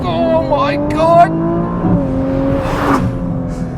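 A Nissan Skyline R34 GT-R V-Spec II launches hard under launch control, its engine note climbing steadily through the revs, loud and close, with a person talking and exclaiming over the acceleration.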